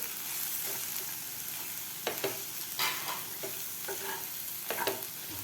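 Peanuts frying in oil alongside potatoes for sabudana khichdi, a steady close sizzle with several sharp stirring scrapes and clinks against the pan, no voices.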